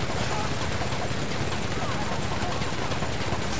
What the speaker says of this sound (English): I'm shooting you in the head and it's not even affecting you